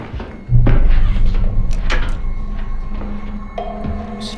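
A drawer opens with a thunk and its contents rattle and knock as someone rummages through it, followed by softer shuffling and a short hum, all fairly close and loud.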